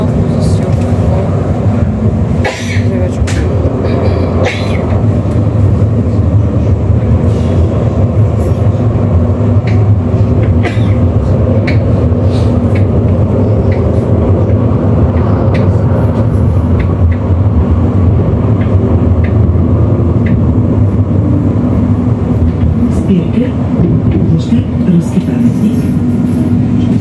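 Interior ride on a Line 5 tram running fast, up to about 57 km/h, with a steady low rumble and hum throughout and occasional rattles and clicks over the track.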